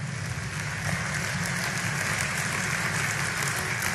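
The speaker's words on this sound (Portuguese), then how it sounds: "Pode dar uma salva de palmas ao Senhor." Dense, steady applause from a church congregation fills the room, a continuous wash of many hands clapping at even loudness with no voices on top.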